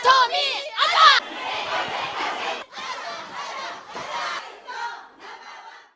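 A big crowd at an Atomy corporate event shouts a chant in loud, rhythmic bursts, several voiced phrases following one another in unison with short pauses between them.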